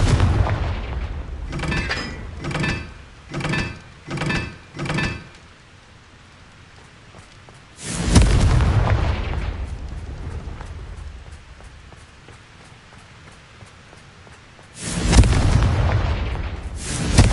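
Confringo spell blasts in a video game: a quick run of four or five sharp bursts, then two long roaring explosions with rumbling tails, each standing alone.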